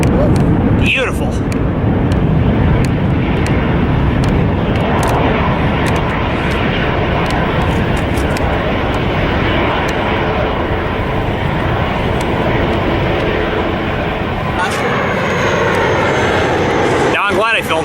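A Bombardier Q400 turboprop flies past at LAX with a steady, loud engine roar that holds for the whole stretch, with brief clicks and handling noise scattered over it.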